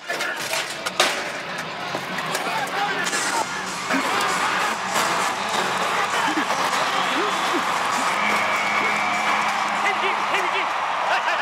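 A rodeo crowd in Houston's Reliance Stadium roars with sustained cheering, applause and whoops after a successful ride, loud and continuous across the whole stretch, with an announcer talking over it.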